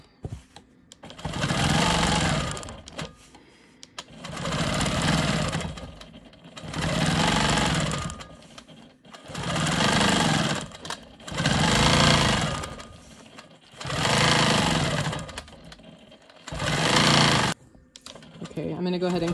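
Quilt Maker Pro 20 quilting machine stitching loops, running in seven steady bursts of about two seconds each with short pauses between, loud and close.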